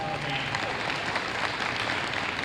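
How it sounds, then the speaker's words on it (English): Brief burst of audience applause for a high school choir and band at a Veterans Day program, steady crowd clapping with no talk over it. "How about one more round of applause for our choir this morning and for our"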